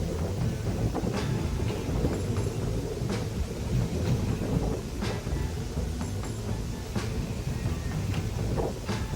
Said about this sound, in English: you may remember the sound of a sleek new train passing through your neighborhood